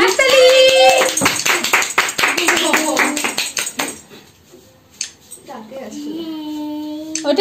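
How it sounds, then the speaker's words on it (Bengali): Family clapping at a home birthday celebration right after a birthday song, a fast burst of hand claps up close for several seconds, then fading out; a voice and other voices come in near the end. "হাততালি।"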